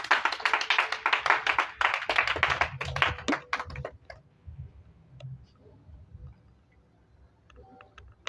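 A church congregation at a baptism preparation gathering in Grand-Bassam claps loudly and densely in praise, the clapping tapering into scattered claps and quiet murmuring after about four seconds.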